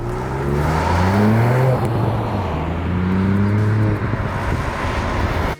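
A 2018 MK8 Ford Fiesta ST with an aftermarket exhaust drives along, its engine note rising through revs, dropping on shifts and climbing again, loud and steady from inside the car.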